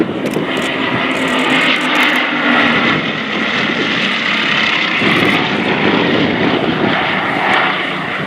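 Restored Blenheim propeller aircraft in a Battle of Britain anniversary flypast at an airshow, a loud sustained engine drone rising and fading as it passes, no talk.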